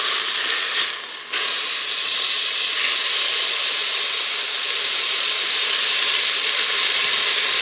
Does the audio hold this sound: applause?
no